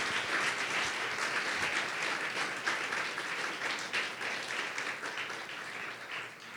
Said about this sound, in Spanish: Bríndele un fuerte aplauso a todas esas personas